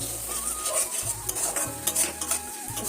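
Curry with whisked yogurt and salt stirred in a pan over a very low flame, a steady soft sizzle under repeated scraping and clinking of the spoon against the pan, with a low hum running beneath and no talk.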